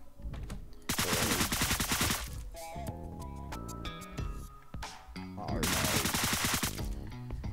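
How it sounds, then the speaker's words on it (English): Tactical SMG gunfire in the video game Deadbolt: rapid automatic bursts of loud cracking shots, two dense volleys separated by scattered single shots and clicks, mixed with game music. "We're gonna tactical SMG here and then get the Tommy gun."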